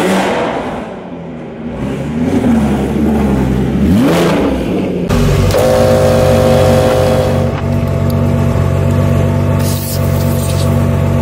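A Porsche 911 GT3 engine revs and accelerates up through the gears, loud and close from inside or beside the car, the pitch rising and falling before settling into a sustained high roar.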